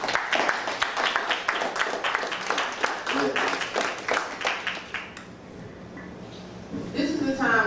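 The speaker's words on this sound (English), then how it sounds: "let's give that brother a round of applause" An audience at a community court gathering at the House of Consciousness claps for several seconds with dense, close, steady applause that fades out, followed by a voice beginning to speak.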